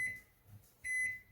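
Toshiba ML-EM45P(BS) countertop microwave oven keypad giving two short, clear electronic beeps as buttons are pressed to enter a time, with faint handling noise between them.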